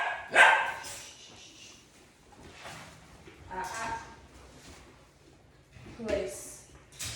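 A dog at home gives a few sharp barks at intervals, fairly close, mixed with a person speaking in between.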